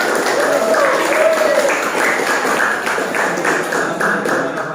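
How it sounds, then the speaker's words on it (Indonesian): Steady applause from a group fills the room at a presentation, dense clapping at a constant level throughout. "tepuk tangan ya untuk kelompok Ternate."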